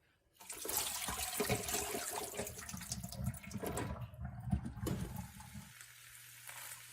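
Hot water and cooked noodles poured out to drain for a gluten-free Indonesian bami goreng, a steady close gush of splashing liquid that cuts off near the end.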